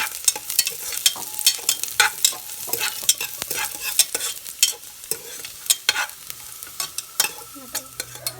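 Oil or ghee sizzling in a pan on the stove, with a continuous hiss broken by frequent sharp crackles and stirring clicks, close and steady throughout with no talk.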